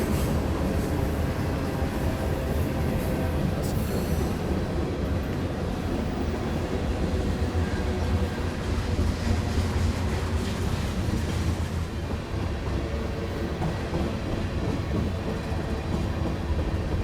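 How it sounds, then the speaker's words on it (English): Model railroad trains running on a hobby layout, giving a steady, continuous rolling rumble with faint clickety-clack of wheels over track joints throughout, without pause. "These are my favorite trains, Mike."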